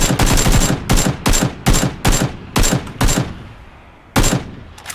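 Automatic gunfire in PUBG rips out in about seven loud, close bursts of rapid shots separated by short pauses, with a longer gap before the final burst and no talking.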